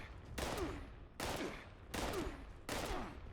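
Gunfire in a shooter video game comes in four evenly spaced bursts, each a sharp crack with a short ringing tail, loud and close, and no voices.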